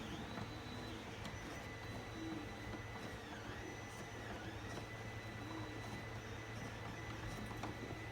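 A small screw-drive trim motor on a remote-controlled outboard, mounted on a custom transom bracket, whirs steadily with a constant low hum and faint high whine, running alone without a break.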